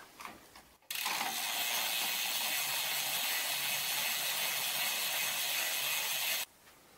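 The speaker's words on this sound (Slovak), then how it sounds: "Následne použijeme práčku s prípravkom na čistenie." A Rex chain washer scrubs a bicycle chain, starting abruptly with a steady, dense whirring rattle of rotating brushes and liquid that holds evenly for several seconds before cutting off.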